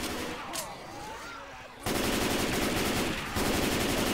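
Rapid, dense automatic gunfire in Left 4 Dead 2, loud and sustained in continuous bursts, with a brief sharp shot early on and a slight dip before the firing resumes at full intensity.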